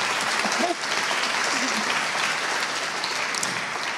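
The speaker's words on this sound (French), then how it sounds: "Je pense que ça s'applaudit." Warm audience applause during a cinema master class with a film director, a loud, full burst of many hands clapping continuously, with a brief voice heard under it.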